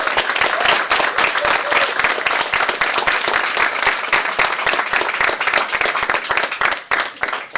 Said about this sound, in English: So you guys can give a round of applause to all of them.